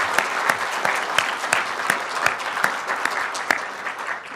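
Steady applause from a sizable audience, dense clapping with a few sharper claps standing out, continuous for several seconds without speech.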